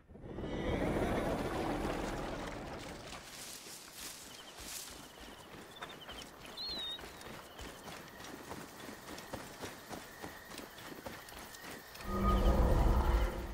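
Hooves clip-clop in a quick rhythmic gallop from a horse in Assassin's Creed Origins, steady and moderately close, framed by louder rushing game ambience at the start and end.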